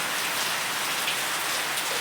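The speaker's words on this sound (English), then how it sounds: "What is it about the rain that gets you going?" Steady rain pours down on a surface, a dense continuous hiss of drops, loud and close, with no voices.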